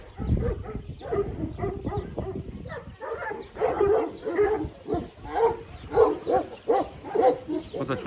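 A young Kangal dog, around a year and a half old, barks and yips in short repeated bursts, some whimpery, mixed with a voice talking close by throughout.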